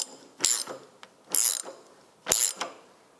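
A ratchet wrench tightens down the cross member on an MGB, three separate bursts of quick clicking close by, each followed by a short pause, with no talk.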